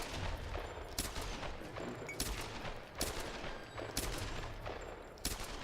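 Gunfire from shooting enemies in the 2013 Tomb Raider game: repeated sharp shots crack out roughly once a second amid a dense, noisy backdrop of game ambience, fairly faint overall.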